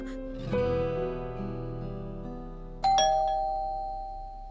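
A doorbell chimes twice, two bright tones each ringing out and slowly decaying, clear and close with no voices.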